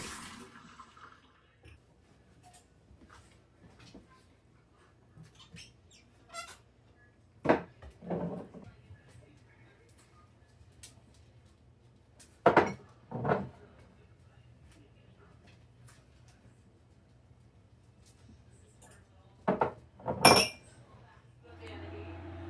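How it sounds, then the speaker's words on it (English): Cups washed in a kitchen sink, with faint running water under scattered clinks and knocks of cups against the basin, spaced out over a long stretch while a voice talks quietly at times. "now I'm just going to give them a quick wash so I can put them away"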